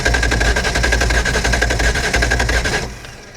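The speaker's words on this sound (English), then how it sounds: "But you see how they start firing and then it like fades out?" A 1993 Sport Nautique boat engine on the water firing steadily in a loud, rapid rhythmic pulse, then cutting out and fading away near the end.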